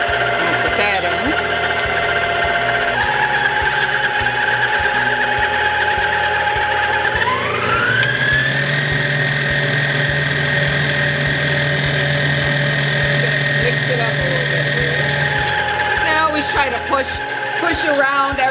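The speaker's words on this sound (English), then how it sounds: "Just keep the mixer going." Electric mixer whirring steadily through lemon cookie dough, its motor pitch rising partway through and holding at a higher speed before settling, loud and continuous from start to end.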